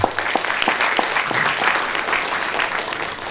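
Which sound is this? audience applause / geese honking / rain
audience applause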